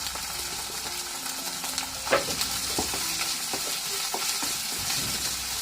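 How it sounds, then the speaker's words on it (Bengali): Onion, garlic and green chili paste fry in a frying pan with a constant close sizzle, punctuated by occasional scraping stirs. "এখন ফ্রাই প্যানের মধ্যে দিয়ে দেবো পেঁয়াজ বাটা দেবো রসুন বাটা কাঁচামরিচ বাটা"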